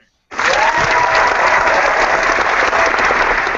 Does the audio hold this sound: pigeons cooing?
no